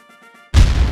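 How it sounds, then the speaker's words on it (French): A French cannon from the 1870 war fires a single sudden heavy boom after a moment of faint tonal background, the blast loud and sustained with a rolling low-end tail. "Les canons français, en ce 3 décembre 1870, vont tirer"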